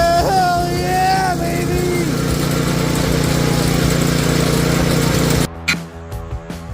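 A homemade drift trike's small engine drones loudly and steadily while spinning the tire through a belt, with a short whine near the start, then it drops away abruptly into brief clatter.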